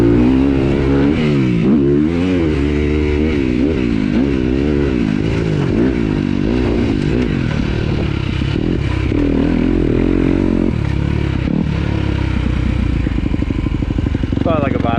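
A 2026 Kawasaki KX250 dirt bike is ridden during break-in. Its engine drones loudly and continuously, with the pitch rising and falling as the rider works the throttle, and it stays close and dominant throughout.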